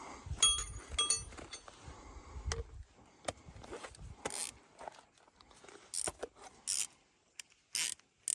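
A 17 mm bolt is worked loose from the large bogey wheel of a Camso UTV track system, heard as close, quick metallic ratchet clicks and clinks of tools in short bursts with pauses between them.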